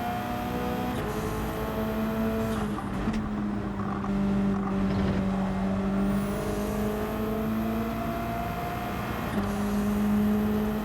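Race cars racing in wet weather in the Gran Turismo 7 video game, engines droning steadily with shifting pitch and a whine rising and falling as cars run close together, continuous and fairly loud throughout.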